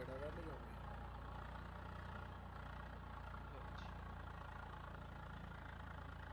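Tractor engine idling and rumbling steadily in Farming Simulator 22, an Indian mod with the tractor arriving at a gurdwara; a low, continuous drone runs throughout under a voice and background game sounds.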